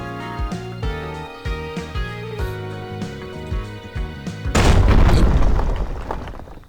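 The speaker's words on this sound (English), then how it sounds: "That's a big earthquake." Earthquake rumble in the video game Tokyo Afterschool Summoners, a deep booming roar that surges in suddenly over layered game music and holds heavy and loud to the end.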